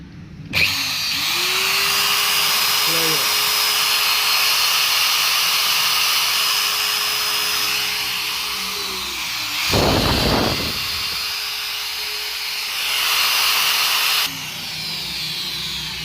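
Metabo electric drill with a burnt field coil that sparks, run at full speed: a loud, steady motor whine holding for about nine seconds, a brief rougher surge, then running on before dropping to a lower hum.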